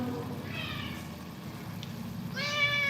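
A large black cat meows twice, near and loud, with a gap of quiet room hum between the two cries and no talking.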